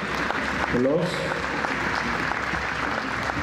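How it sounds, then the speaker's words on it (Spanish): Audience at a school ceremony applauding sixth grade students, sustained dense clapping from a crowd while a voice speaks briefly over it. "Recibamos con un fuerte aplauso a los estudiantes de sexto grado del Liceo Los Robles."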